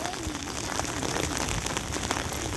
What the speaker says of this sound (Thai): ฝนตกทั้งวันทั้งคืนเลยนะคะ พายุเข้าฝรั่งเศสนะคะ